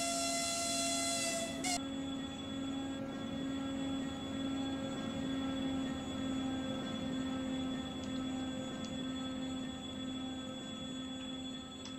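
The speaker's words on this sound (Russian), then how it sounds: "А, это просто локомотив Эп-20." A steady, droning EP20 locomotive hum in Minecraft with sustained tones throughout, a brief higher whistle-like burst at the start, no voices.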